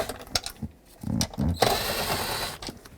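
A 7mm socket on a ratchet turns out cup holder screws in a 2008-2010 Ford F-250, giving short clicking bursts and rattles, then a brief stretch of hiss and more faint clicks nearby.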